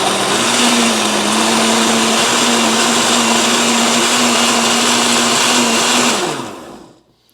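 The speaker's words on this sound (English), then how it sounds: "we're going to puree these onions" A blender purees onions for Thanksgiving cornbread dressing, a loud, steady motor whir that holds for about six seconds before winding down to silence.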